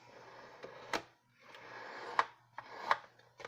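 Craft paper being burnished along its edge gives faint, soft rubbing strokes in three short passes, each ending in a slightly sharper scrape, in a quiet room.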